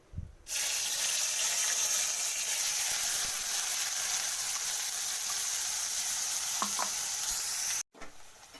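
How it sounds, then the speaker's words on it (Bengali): Onion and tomato paste hitting hot oil with black cumin tempering for a Bengali katla fish curry, producing a sudden loud, steady hiss that holds for about seven seconds, then cuts off abruptly, close up. "আগের থেকে পেস্ট করা পেঁয়াজ আর টমেটো বাটা এরপর দিয়ে দিলাম আমি"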